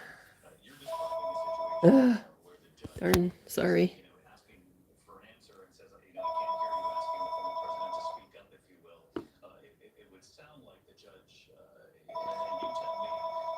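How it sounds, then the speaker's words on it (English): A landline house telephone rings in repeated electronic trilling bursts, three distinct rings spaced apart, with a person speaking briefly and exclaiming in between. "Yeah, that's my phone."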